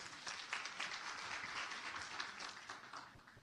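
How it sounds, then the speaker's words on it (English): An audience applauds after a speaker's talk at a lecture series, a dense, even clapping from many hands that sounds moderately distant and fairly quiet, holding steady throughout without voices over it. "Can we have another round of applause for Ms. Davis?"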